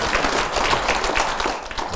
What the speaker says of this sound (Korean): 박수로 맞으세요